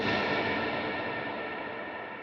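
An electric guitar drenched in a washy hall reverb with a long decay: a dense, smeared wash of sound that hangs in the air and dies away slowly, with no distinct notes standing out.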